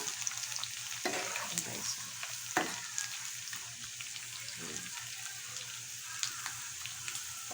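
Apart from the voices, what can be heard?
tiny shrimp (alamang) frying and being stirred in a pan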